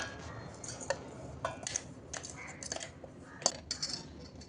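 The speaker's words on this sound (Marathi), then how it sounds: "हे सगळं मिक्सरमधून काढलेलं एका भांड्यात काढून घेतोय आपण" A spoon scrapes ground peanut mix out of a mixer jar into a bowl in a home kitchen. Irregular light metallic clinks and taps sound close by over faint room noise, with a few sharper knocks.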